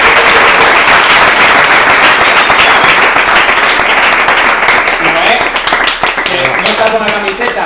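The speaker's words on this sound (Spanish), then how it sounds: "Y quiero un aplauso" An audience at a farewell event for a design gathering applauds loudly for several seconds, the dense clapping thinning toward the end as a voice begins speaking over it.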